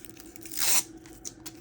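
A small piece of rhinestone transfer tape is cut off in a single short, crisp snip close by, with near silence around it.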